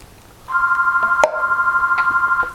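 Telephone ringing in a home kitchen, a loud trilling electronic ring that starts abruptly and holds steady, with a short click partway through.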